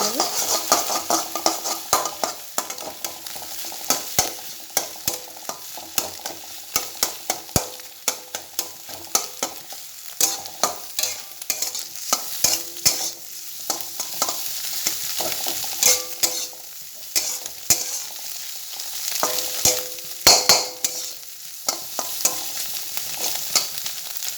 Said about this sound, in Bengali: এইভাবে আমি নাড়তে থাকবো ডিমটি ডিমটা শুকনো শুকনো